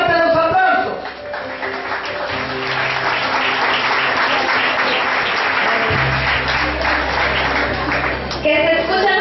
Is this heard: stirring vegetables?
no